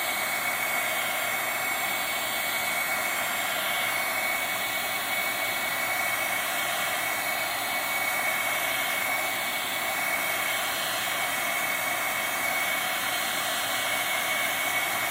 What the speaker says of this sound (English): this heat gun is pretty hot